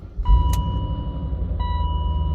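A BMW M5 engine cranks briefly and catches, then settles into a low, steady idle rumble, heard close and fairly quiet with a faint tonal whine over the idle.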